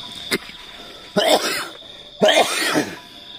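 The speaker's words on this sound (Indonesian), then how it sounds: "Ini semakin malam semakin dingin, semakin batuk, nggak henti." Harsh, hacking coughs sound on a cold night outdoors: one short cough, then two longer rasping fits, close and loud, each followed by a pause.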